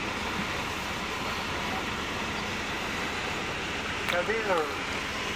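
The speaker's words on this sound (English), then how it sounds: "Here comes the train engine to connect with the train." A train engine rolls in to couple with a line of passenger cars on a Yukon rail excursion, a steady broad rumble with a brief high squeal near the end.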